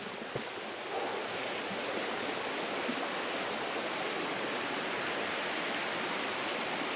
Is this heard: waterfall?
yes